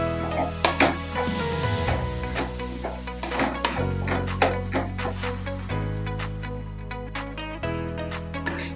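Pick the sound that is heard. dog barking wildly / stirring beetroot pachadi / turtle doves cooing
stirring beetroot pachadi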